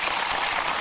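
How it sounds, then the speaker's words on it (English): Audience clapping from a played recording of a speech on drug sentencing policy, a steady dense wash of applause throughout, fairly loud and even, with no voices over it. "Why are they clapping?"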